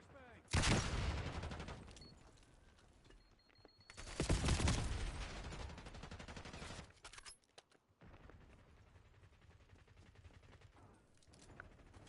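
A flashbang and gunfire in a Call of Duty match: two loud, sharp bursts of rapid shots and blasts that ring out and fade, with quieter game noise and a voice between them.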